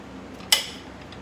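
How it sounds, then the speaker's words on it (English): A knife makes one sharp, close chop through a carrot on a cutting board while someone prepares a vegetable salad. The single crisp tap is set against a quiet room. "I'm chopping a carrot first for my"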